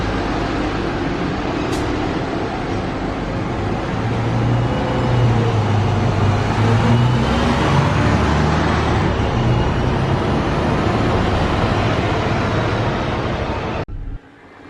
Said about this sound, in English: I'm on the Route 66 bus from King George Square going to UQ Lakes.